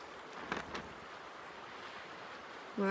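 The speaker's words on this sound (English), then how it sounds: "the wind is gusting pretty good from this side of the island" Wind gusts over Tretheway Lake in Temagami stir up small whitecaps, making a steady broad rush of wind and lapping waves with brief buffets against the microphone, with no talking.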